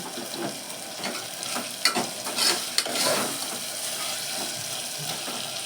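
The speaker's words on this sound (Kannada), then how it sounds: "ಇದೊಂದು 2 ನಿಮಿಷ ಫ್ರೈ ಆಗಲಿ." Potatoes frying in oil for a chapati side dish give a steady close sizzle, with occasional brief stirring scrapes rising above it.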